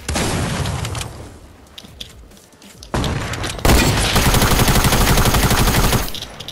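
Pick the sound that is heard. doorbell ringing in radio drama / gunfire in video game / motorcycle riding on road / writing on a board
gunfire in video game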